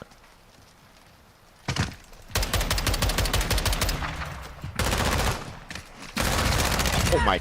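A DMR rifle fires in an online shooter game in rapid, loud bursts of repeated shots, broken by short gaps, with a brief single crack before the long volleys.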